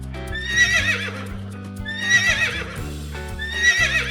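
A horse neighs in three repeated whinnies, each a loud, shaky high-pitched call, set against a steady low background, with no talking.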